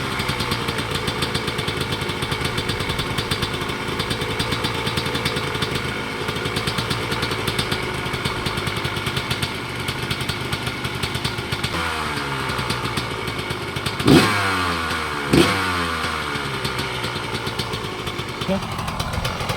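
A 2005 Husqvarna 125 CR two-stroke motorcycle engine runs steadily and close by, with a couple of sharp revs near the end, started without choke; voices are heard over the engine noise.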